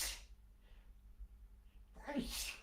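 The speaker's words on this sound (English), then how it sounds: "I'm just going to sneeze for 1 second." A single sharp sneeze bursts out near the end after a quiet pause, close and loud, from a person during a live stream.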